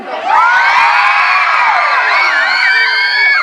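A group of children at a Thai school sports day cheers for their colour teams, shouting loudly and continuously, with high-pitched voices overlapping in a sustained roar.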